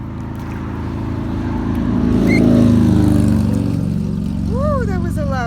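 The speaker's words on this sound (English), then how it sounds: "Woo, that was a loud motorcycle," A loud motorcycle passes close by a front yard, its engine roar swelling to a peak and fading, with faint bird chirps near the end.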